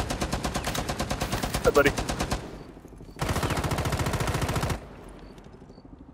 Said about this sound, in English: Oh, I love that gun sound,